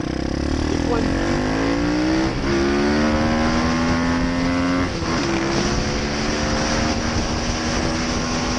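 An Apollo motorbike engine drones steadily and loudly, its pitch rising and falling with throttle changes across the whole stretch, along with wind noise.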